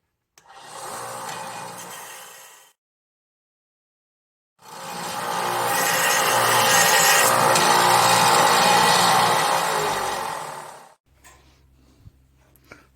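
A Harbor Freight 4x6 bandsaw cuts metal in a loud, steady grinding whine, first in a short burst, then a longer run of about six seconds, ending in a low idle hum.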